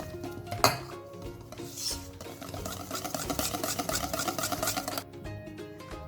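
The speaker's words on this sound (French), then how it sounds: "on va bien mélanger pour que ça soit bien incorporé, qu'il n'y ait plus de grumeaux" A chocolate and warm water mixture being stirred in a bowl, with continuous scraping and clinking of a utensil against the bowl, fairly close and moderately quiet, with no talking.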